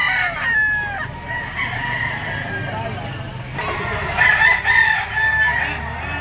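Several gamecock stags crow close by in repeated strained calls with clucks between them, while someone talks over the birds and a car sometimes passes in the background.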